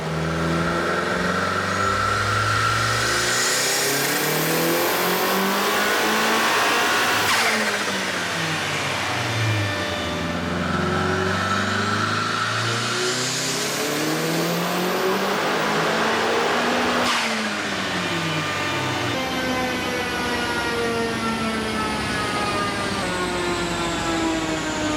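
Four-cylinder Mazda Miata engine revving hard on a dyno, loud sustained pulls with rising and falling pitch sweeps, two full climbs to high revs before settling into a steady high drone.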